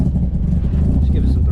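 A Mazda FC RX7 rotary engine warms up in cold weather on a tune not set for the cold, giving a steady, close, low rumble under throttle with faint voices in the background.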